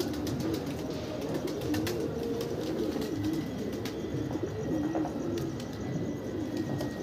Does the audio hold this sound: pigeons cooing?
yes